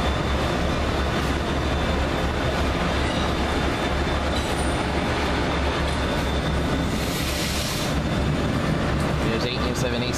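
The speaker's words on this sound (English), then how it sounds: "There's AEM7 AC number 941 leaving." An Amtrak AEM7 electric locomotive, AC number 941, pulls away with a steady loud rumble of rail cars and wheels throughout, with faint wheel squeal and a brief high whine near the end.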